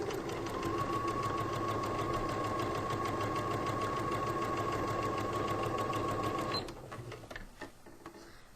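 A sewing machine stitches a pillowcase in one long, steady run with a continuous close whir and even needle rhythm, then stops abruptly, leaving a few faint handling clicks.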